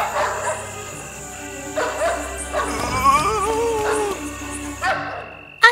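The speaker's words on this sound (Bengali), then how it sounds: "মিউইং বিড়ালরা কুকুরদের সতর্ক করেছিল যারা ঘেউ ঘেউ করছিল।" Dogs bark, yip and whimper in an animated fairy tale, a run of short yaps and whines at moderate loudness with brief pauses, ending in one sharp louder burst.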